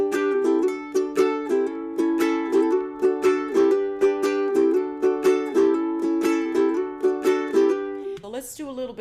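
A ukulele is strummed quickly and evenly, bright repeated chords in a steady rhythm, close and clear, ending with a short fading flourish.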